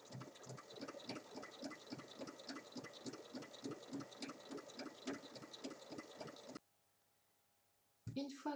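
A sewing machine stitching fabric for a small pouch: a steady, rapid mechanical hum with a fast rhythmic pulse that runs for several seconds, then stops, leaving near silence before a faint noise returns.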